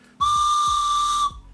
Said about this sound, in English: a whistle train